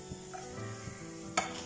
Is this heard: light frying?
yes